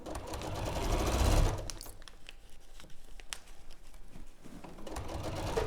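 Sewing machine stitching fabric, a close rapid mechanical whirring run that stops after about a second and a half, followed by soft rustling and fabric handling noises before a quieter burst of stitching.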